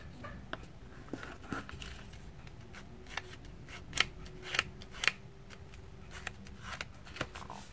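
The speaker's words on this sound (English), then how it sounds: "repeat the same fold for the other side" Paper being folded into a paper airplane, with soft crinkles and several sharp creasing snaps close up, alone against a quiet room background.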